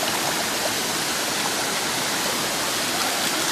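Stream rapids and a small waterfall rush steadily up close, a loud, dense wash of churning water with no break or change throughout.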